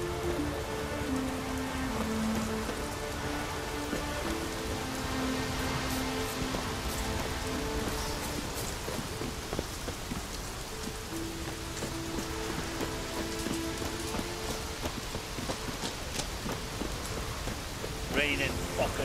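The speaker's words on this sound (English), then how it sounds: "Raining fucking buckets." Steady rain falls in the video game The Witcher 3, a dense, even hiss of drops on surfaces that continues throughout, with faint ambient tones and occasional voices beneath.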